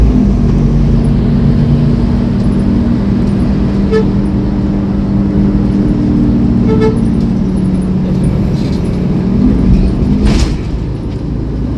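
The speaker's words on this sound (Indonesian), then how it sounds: "Nah itu macet itu pas masuk ke tol tuh ya." Steady roadway traffic rumble heard from inside a TransJakarta bus in a jam at a Jakarta toll road entrance, with a sustained low drone and a sharp honk near the end.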